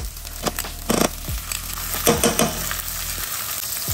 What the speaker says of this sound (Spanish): And now we're going to add 2 tablespoons of butter.